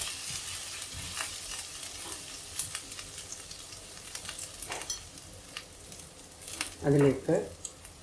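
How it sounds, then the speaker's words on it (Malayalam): Chopped ginger, garlic cloves and green chilli sautéing in a pan for an okra mappas curry, a soft low sizzle with occasional spoon scrapes and a louder stirring clatter near the end. "ഒരു ചെറിയ കഷ്ണം ഇഞ്ചി, ഒരു 3 അല്ലി വെളുത്തുള്ളി, ഒരു പച്ചമുളക് എല്ലാം കൂടെ ഒന്ന് വഴറ്റാം."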